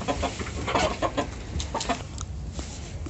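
Leghorn chickens cluck close by in a series of short, uneven calls, with a busy farmyard murmur underneath.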